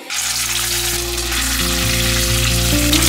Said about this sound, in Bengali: এবার দেখো তেলটা গরম হয়ে গেছে, মাছটা ছেড়ে দিই।